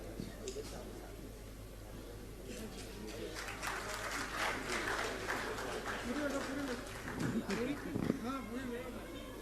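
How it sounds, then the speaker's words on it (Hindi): An audience at a Jain religious question-and-answer gathering breaks into clapping that builds and thickens midway, heard beneath a speaking voice and low hall hum. "तालियों में कंजूसी नहीं।"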